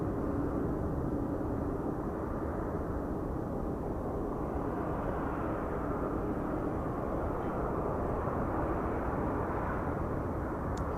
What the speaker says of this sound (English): Asian A350 just dropping in there on runway 34 left